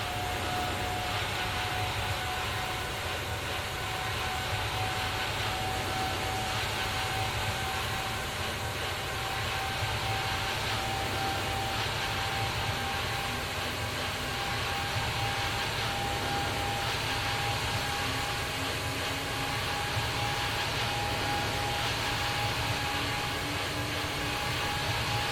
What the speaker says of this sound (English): start engine number 4 first, and I'll let you listen to it from the outside